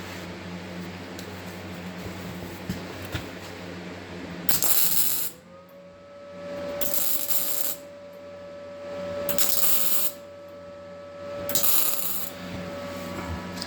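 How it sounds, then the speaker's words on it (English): Tack welding on metal panels, several short crackling welder bursts spaced a couple of seconds apart over a steady shop hum, fairly close and loud. "I just went along, tack welded in place."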